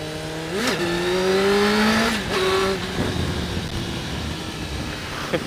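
A Suzuki GSX-R 750 K1 motorcycle engine revs hard twice, pitch sweeping up and holding before dropping back, then settles into a rough, loud idle burble close by.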